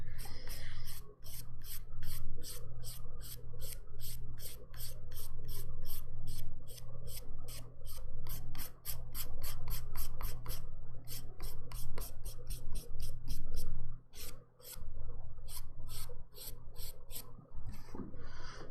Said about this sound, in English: Nicole, these are 180 grit files.